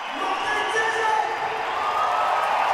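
Crowd at a Night of the Jumps freestyle motocross event in Dresden, a continuous roar of cheering and whooping that stays loud throughout, with a voice speaking over it.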